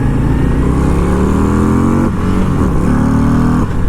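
Harley-Davidson Road Glide ST bagger motorcycle accelerating hard, a loud, steady engine roar with rising harmonics that dips briefly near the middle and again toward the end, heard close with no talking.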